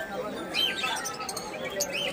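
Birds at a crowded bird market chirping and cooing, several faint calls against a busy background murmur of people talking.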